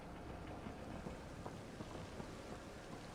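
Steady rain pours down on an alien world in Mass Effect: Andromeda, a dense continuous hiss with scattered low rumbles and patters throughout, no voices over it.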